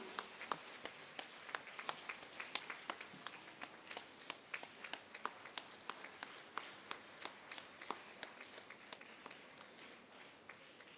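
Applause for Sonia George at an all-India women's union convention, a fairly faint, thin crowd clapping with distinct individual claps standing out over a soft steady patter in a hall.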